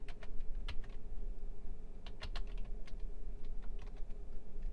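Quick, uneven keystrokes clack on a Commodore 64 keyboard as a password is typed, close and crisp with short pauses between bursts, no speech.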